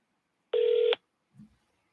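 A telephone dialing tone rings out: one steady, loud beep of about half a second, followed by a faint low blip, with no talking.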